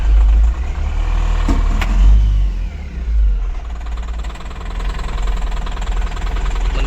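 Truck engine running and revving as the vehicle is moved forward, hauling a load of lightweight bricks on a rough road; a loud, knocking diesel drone that surges, dips and surges again steadily throughout.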